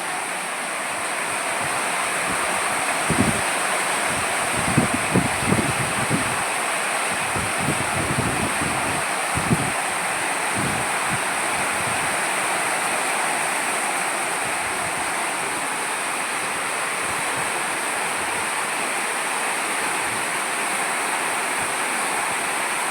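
Rain falling over a village: a dense, steady rushing wash of water that continues for over twenty seconds, with a few soft low bumps early on and no speech.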